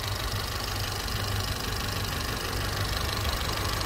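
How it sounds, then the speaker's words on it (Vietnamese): A 2007 Kia Morning with automatic transmission idles nearby, a smooth, even engine hum with a steady low throb and no revving. "Máy nổ rất êm luôn."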